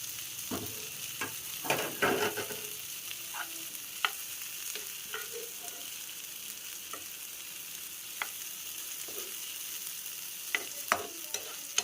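Egg stirred and mixed into a sizzling frying pan for egg chaat, a steady hiss broken by irregular sharp scrapes and taps of the utensil, close and clear.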